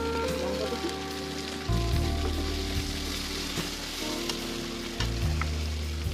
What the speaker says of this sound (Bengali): এই যে আদা রসুনটা দিয়ে আমি ভালোভাবে ভেজে নিলাম।